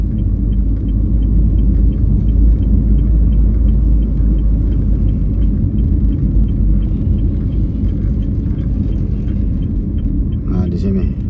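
Steady engine rumble and road noise inside a car as it drives around to park behind Panakkukang mall in Makassar, a continuous loud drone throughout with a brief clatter near the end.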